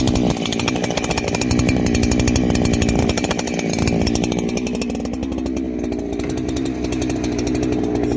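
A Holzfforma Farmertec G288 chainsaw bucks through pine, running loud and close without a break, its engine roaring steadily under load as the chain cuts.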